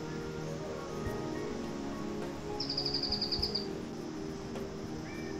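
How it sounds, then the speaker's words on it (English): A silvery-fronted tapaculo in Costa Rican Pacific slope forest gives a quick, high, rapid trill of about a dozen notes, lasting roughly a second, over a faint background of insects and rustling. "The silvery-fronted tapaculo moves quickly, low to the ground among roots and leaf litter, its call being heard more often than it is seen."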